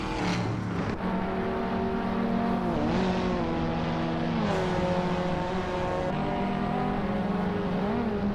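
A 2021 Ford Mustang Trans Am race car in a racing video game holds a loud, continuous engine drone, its pitch rising and falling through gear changes and throttle shifts, with no voices.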